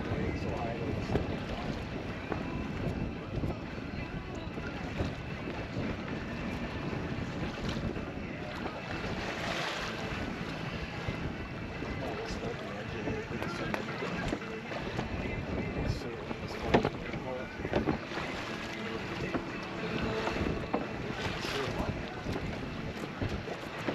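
A sailboat under way with a roller-furling sail, as steady wind buffets the microphone over rushing, splashing water and waves for a long stretch, with no talking.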